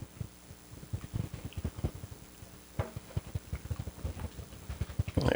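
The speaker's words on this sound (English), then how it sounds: "let's whisk everything together and get it blended" Potato salad dressing with lemon juice is whisked slowly in a bowl, a steady run of soft, close tapping and clicking strokes over a faint hum, without talking.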